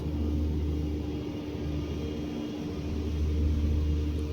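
A steady, deep rumble of engine noise fills the whole stretch, swelling slightly near the end like airplanes passing overhead at a distance over a town.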